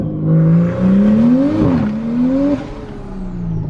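Big-turbo 2020 Toyota Supra pulling hard on a street, engine note climbing steadily through a loud, close run with a brief dip and shift partway before the pull continues.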